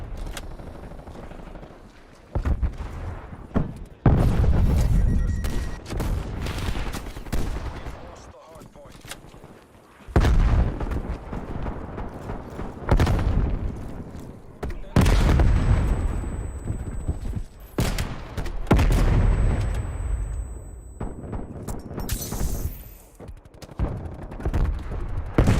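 Turret gunfire in a video game: loud repeated bursts of automatic fire with short gaps between volleys, mixed with speech.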